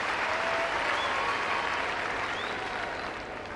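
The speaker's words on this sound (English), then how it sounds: "A terrific round of applause welcoming the players back onto court" Warm, sustained applause from a large crowd at Wimbledon welcoming tennis players back onto the grass court, a dense, even clatter of clapping that fades slightly at the end.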